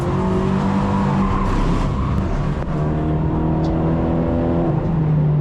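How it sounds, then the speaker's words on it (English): A Lynk & Co 03+ race car on a track runs with a slight engine misfire, its loud steady drone heard from inside the cabin with uneven tonal wavering and brief tire noise, no talking. "Slight engine malfunction there. I don't know, it's got a little misfire or something."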